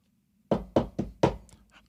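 A hand raps a hotel room door four times, mimicking housekeeping staff. The knocks are sharp, close and loud in a quick, slightly uneven rhythm, followed by a brief faint rustle and no talking.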